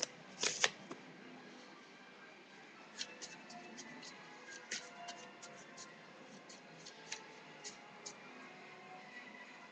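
Quiet riffling of playing cards being shuffled close by, soft flicks and taps scattered irregularly over a faint background hiss.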